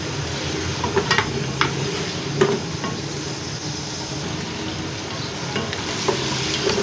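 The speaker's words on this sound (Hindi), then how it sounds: "अब हमने शामिल कर देना मसाला भूनने के बाद पाए को और इसको भी हमने अच्छे से भून लेना है" Trotters (paya) roasting in masala in a pan, a steady low sizzle with occasional scraping stir strokes, close and moderately loud, with no talking.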